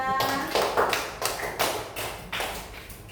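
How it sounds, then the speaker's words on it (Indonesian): A small group, likely children in a classroom, claps for Disya in loose rhythmic bursts of a few hand slaps each, fairly close and moderate in level, with a voice heard briefly at the start. "beri tepuk tangan dulu untuk Disya"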